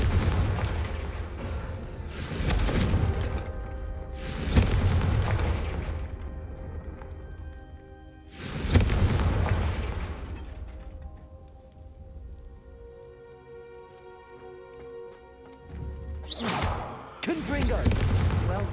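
Confringo fire spells fired in Hogwarts Legacy give heavy, booming blasts, each a deep thump with a fiery roar that fades, repeated about five times at irregular intervals, with calmer ambient stretches between.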